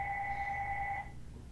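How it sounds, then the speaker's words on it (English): A telephone rings indoors during a meal of blueberry waffles and turkey cheeseburgers, giving one steady electronic two-tone ring for about a second before it cuts off into quiet room noise. "Now that phone should not be ringing in the middle of my video."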